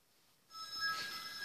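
Telephone ringing with a bright electronic ringtone that starts suddenly and rings on steadily, loud and close, with no talking over it.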